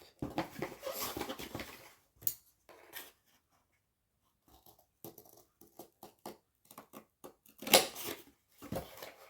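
Close, quiet snipping and rustling of scissors cutting paper, in scattered short bursts separated by pauses.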